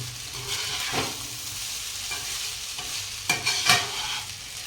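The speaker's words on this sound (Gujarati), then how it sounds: "અને હલકા હાથે આપણે મિક્સ કરી દઈશું" Vegetable pulao is gently stirred in a hot pan, soft scraping strokes and light sizzling, with a few sharper spoon knocks near the end, close and without voices.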